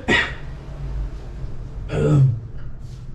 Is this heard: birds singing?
no